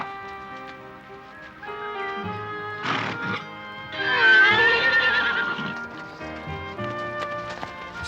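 Wild Australian brumby horses neigh and whinny, with one long loud whinny in the middle rising above softer calls, hoof clip-clop and a brief burst of noise, alone and fairly near.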